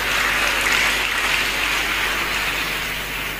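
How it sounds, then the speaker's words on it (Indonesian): A crowd applauds continuously, the clapping dense and even, easing off slightly toward the end. "Tepuk tangan untuk beliau."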